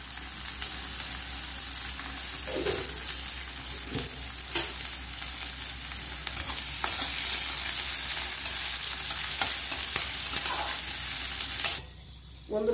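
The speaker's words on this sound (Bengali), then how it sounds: "পেঁয়াজ ভেজে নিচ্ছি।" Sliced onions fry with a little sugar in hot white oil for beresta, a dense, close sizzle broken by periodic stirring scrapes before cutting off abruptly near the end; no voices.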